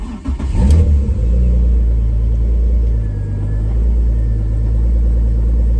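A turbocharged BMW 325ci E46 with an S52 engine cold-starts with a sharp crank and catch, then settles into a loud, steady, rumbling idle close by.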